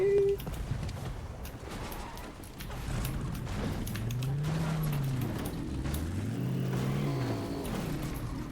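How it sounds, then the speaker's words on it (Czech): A car engine in Fortnite hums and revs in rising and falling sweeps, with faint mechanical creaks and clatter behind it, moderately loud and continuous. "To zní hrozně to auto."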